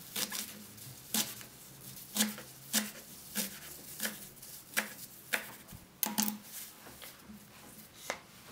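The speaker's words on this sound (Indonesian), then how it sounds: "Cuci daun dan potong-potong menjadi bagian kecil." Kipahit leaves being chopped into small pieces with a knife on a board, a series of sharp distinct thuds at a slightly uneven, unhurried pace, close and clear with no talking.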